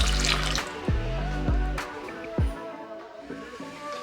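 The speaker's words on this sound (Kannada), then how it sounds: "ಹಾಗೆ ಅರ್ಧ ಗ್ಲಾಸಷ್ಟು ನೀರು ಹಾಕೋತಾ ಇದ್ದೀನಿ." Half a glass of water splashes into milk in a kadai, a short close pour with a couple of knocks of the glass, no talking over it.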